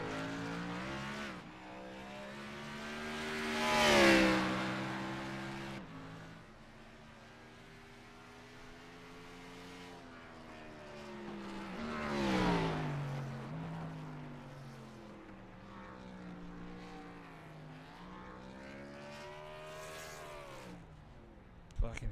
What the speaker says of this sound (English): If I can hear that engine revving